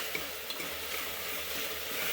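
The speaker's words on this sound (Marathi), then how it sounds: "आता त्याला हलवते चांगलं" Ginger-garlic paste, ground in a mixer, stirs and fries steadily in a pan, with a continuous close sizzle and soft scraping from the stirring throughout.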